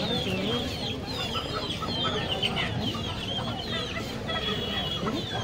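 Chickens clucking at a live poultry market, many birds overlapping in busy cackles and clucks, close and constant, with faint talk underneath.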